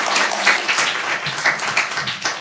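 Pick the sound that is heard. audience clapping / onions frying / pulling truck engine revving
audience clapping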